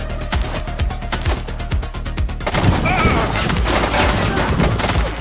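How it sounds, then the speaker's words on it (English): Gunfire in a police video game crackles as a dense fusillade of rapid shots, loud and close, continuing without a break over a constant background din. "He's shooting!"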